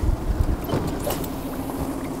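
Strong wind blowing at sea on board a fishing boat, a loud, continuous rushing roar with gusty buffeting against the microphone and no voices.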